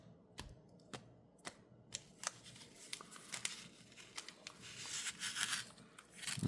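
A deck of Pokémon trading cards is shuffled, sharp papery clicks and flicks at first, then a building, denser riffle of cards rising in loudness toward the end, with no talking.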